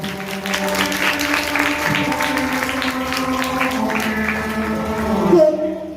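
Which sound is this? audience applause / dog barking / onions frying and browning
audience applause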